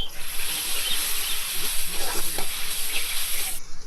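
Sliced onions frying with rock salt stirred into the pan: a strong, even sizzle and hiss, with scraping stirring strokes audible near the middle.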